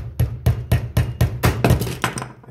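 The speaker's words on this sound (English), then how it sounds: "and then real simply we're going to take a hammer" A hammer taps a needle fitting into a hydraulic hose line held in blocks, about ten sharp, evenly spaced metallic strikes at close range with no talking.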